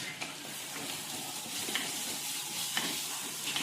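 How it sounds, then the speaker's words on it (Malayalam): Green chilies and ginger-garlic paste sauté in oil in a clay pot, a steady soft sizzle with a few light scrapes and stirs at a moderate distance. "2 പച്ചമുളകും 1 ടീസ്പൂൺ ഇഞ്ചി വെള്ളുള്ളി പേസ്റ്റും ചേർത്ത് നല്ലപോലെ വീണ്ടും വഴറ്റുക"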